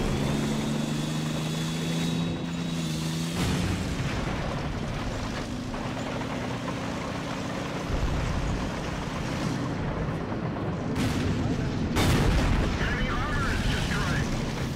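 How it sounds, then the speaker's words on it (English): Tank cannon shots in the World of Tanks video game, played in an E-50M medium tank, sounding as heavy booming blasts over a constant engine rumble, with a loud report near the end of the stretch. "And this was my last shot in this battle."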